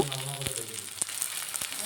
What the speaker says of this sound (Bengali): পেঁয়াজ আর টমেটোটা হালকা করে ভেজে নিচ্ছি আবার।